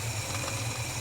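A Holden HK engine idles while it warms up, a steady, even rumble with a low throbbing pulse and no voices.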